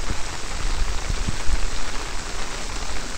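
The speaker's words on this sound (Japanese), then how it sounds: "こんな雨すごいで、ね、" Heavy rain pours steadily in a park in Nara, Japan, a dense, even hiss of drops on the ground and surfaces, loud and close with no break and no voices.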